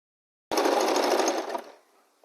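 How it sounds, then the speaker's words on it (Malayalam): A sewing machine runs in one short, fast burst for about a second while stitching the bottom of an organiser made from an old shirt, then slows and stops. "ഇനി നമുക്ക് അടിയിൽ ഭാഗം തയ്ച്ചു കൊടുക്കാം"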